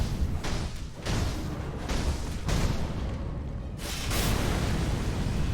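Fire blast and shockwave from the Demon of Hate's body slam in a video game, a loud continuous roaring rumble with repeated booming surges, heavy low thuds and bursts over about five seconds.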